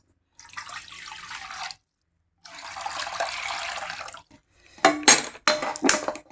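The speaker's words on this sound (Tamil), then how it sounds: "ஒரு கப் ரவைக்கு அஞ்சு கப் ரவை தண்ணி ஊற்றி நம்ம இங்கே காய வைக்கலாம்" Water is poured into a pan for boiling semolina, about five cups to one cup of the grain. There are two steady splashing pours separated by a pause, then a few sharp metallic clinks and knocks of the vessel.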